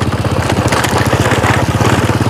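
A tractor working a flooded rice paddy during planting in a Javanese village: a loud, close, steady chugging engine with a rapid regular pulse that runs throughout, with no talk.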